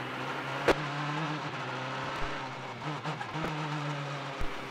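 A Mazda race car coasts into third gear at the Belle Isle Grand Prix, its engine a fairly quiet steady drone heard from onboard, broken by a few brief sharp clicks and knocks.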